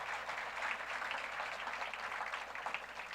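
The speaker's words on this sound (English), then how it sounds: "yes, applause" Audience applause at an annual awards event, a steady, moderately distant crowd of clapping hands with a fairly even, continuous texture.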